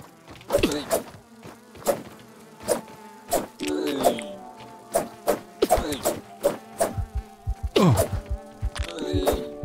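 A fly buzzes around the player in the survival video game Grounded, its whining drone rising and falling in repeated passes between sharp clicks and thuds from the game.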